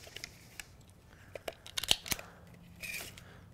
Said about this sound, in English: we need to cut 2 2-inch connection joints